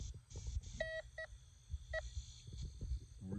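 A handheld metal detector gives several short, bright electronic beeps in quick pairs while searching outdoors for a buried lost arrow, over a low, rumbling background.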